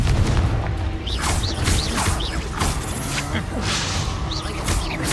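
The Confringo spell in a video game sets off a loud run of booms and swooshing blasts, several bursts overlapping in quick succession against a dense rumbling backdrop.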